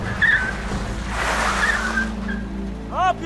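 A car brakes suddenly with a rushing skid of tires on pavement, noisy for over a second, followed by a brief sharp squeal near the end.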